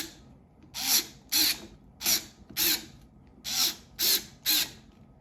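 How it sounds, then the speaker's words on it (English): A power tool drives screws into the handlebars of a Blade GT+ electric scooter in eight short, sharp whirring bursts separated by brief pauses. The bursts are close and clear, with no talking. "So we'll lock these screws in here right now."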